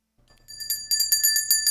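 A bell rung in celebration of a New York Yankees series sweep over the Red Sox, struck in a quick run of about ten bright, ringing strokes that overlap into a sustained metallic shimmer, loud and close with no talk.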